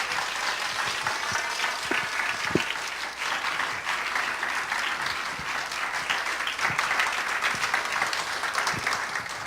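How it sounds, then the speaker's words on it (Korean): Dense, steady applause fills the whole stretch as a church seminar audience on biblical family and child education welcomes a visiting pastor to the front, close and sustained without a break. "권 목사님 나오실 때 박수 한번 해주시기를 바랍니다."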